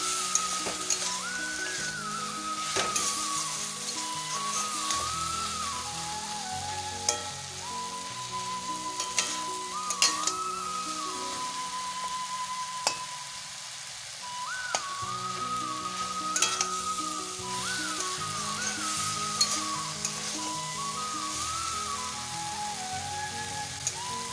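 Vegetable bhaji sizzles steadily in a pan on the stove, with frequent light scrapes and clinks of a spatula stirring it, continuous and close with no talking.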